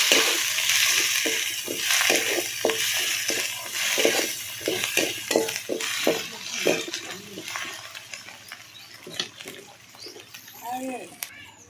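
Country chicken curry frying and being stirred in a pan with tomatoes added, with repeated scraping stir strokes over a steady sizzle and a person talking throughout.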